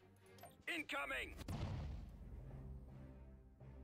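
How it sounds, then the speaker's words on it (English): A heavy sci-fi ion cannon blast booms in the Star Wars strategy game Thrawn's Revenge, a deep rumbling discharge that swells and fades, with a brief voice just before it. "Ion cannon firing."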